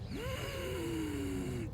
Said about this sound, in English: Place 2 fingers at the base of the throat and make a humming or hissing sound like this